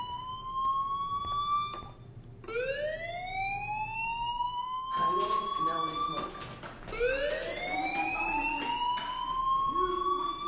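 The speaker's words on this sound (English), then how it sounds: "Hey, do you hear that fire alarm?" A school fire alarm in the Life is Strange video game, rising siren-like wails that repeat with short gaps, steady and fairly loud over a low background rumble and some clatter.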